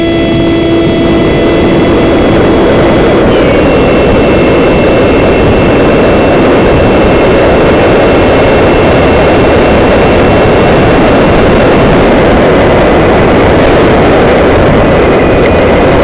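An F-27Q Stryker RC model plane's electric motor runs through a throttle test outdoors in snow, giving a steady, loud, close whine with a broad rushing roar that holds throughout, with a faint high tone shifting partway.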